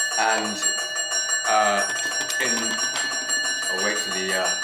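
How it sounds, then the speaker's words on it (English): A parliament bell announcing the start of business rings steadily as a sustained electric tone under someone speaking close up. "the bell announcing the start of business"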